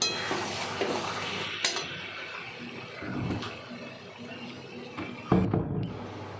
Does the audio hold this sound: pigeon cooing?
no